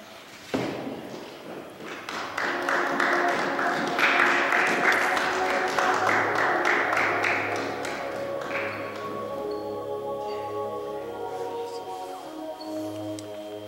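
Congregation applause at a youth church service in Strasbourg, France: dense, loud clapping swells and peaks early, then thins and fades as sustained keyboard-like musical tones take over.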